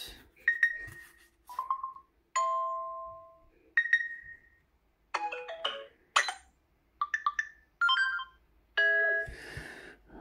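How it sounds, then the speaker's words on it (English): A series of short electronic notification tones from a Samsung Galaxy A04s phone plays one after another, chimes, beeps and trills separated by brief silences, clear and close. "So you've got your notification sounds."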